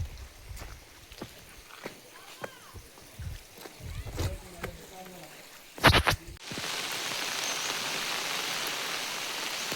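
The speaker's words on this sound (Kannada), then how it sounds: "ಮಳೆಯಲ್ಲಿ ನೆನೀತಾ ಇದ್ದೀವಿ" Rain starts to fall in a steady, hissing downpour at Kavaledurga after a few scattered taps and knocks.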